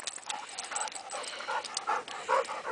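Two water dogs pant quickly and whimper softly by a foggy lake, the breathy rhythm close and continuous with faint whines between breaths.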